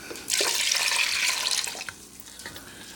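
Water streams steadily into a pot of elderberries for syrup, a close, loud rushing pour that starts abruptly, then tapers and thins toward the end.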